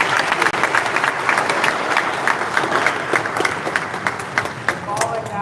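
An indoor crowd at FlightSimExpo 2025 gives a round of applause: dense, continuous clapping fills the hall, loud and sustained, with scattered voices and chatter mixed in.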